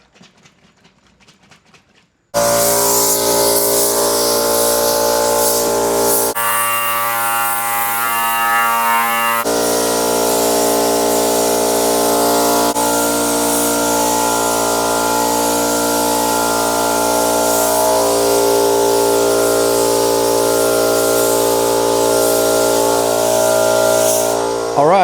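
Spray gun laying a second coat of high-solids clear onto carbon fiber parts for an E46 M3, a loud steady hiss that runs almost continuously after a short quiet start, with slight changes in tone partway through.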